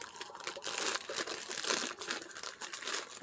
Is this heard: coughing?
no